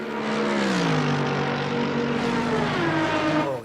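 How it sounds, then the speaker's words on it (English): Aston Martin race car engine in Assetto Corsa Competizione, a steady loud drone with gliding pitch as it revs and shifts, sustained throughout with no talk. "That sound you just heard, that's the Aston Martin, I think."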